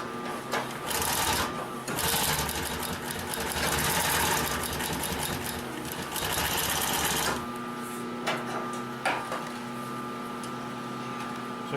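A Consew 744R-30 long-arm walking foot sewing machine stitching through many stacked layers of stiff webbing, a steady loud mechanical clatter in bursts with short stops, close up.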